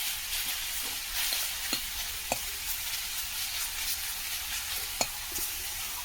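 Jute leaf greens fry in a pan with a steady, continuous sizzle, broken by occasional sharp clicks and scrapes of stirring, close and alone without talk.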